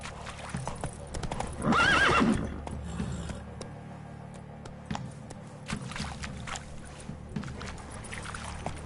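A horse in The Witcher 3 gallops with steady, close hoofbeat clip-clops and lets out a loud whinny partway through, with no voices heard.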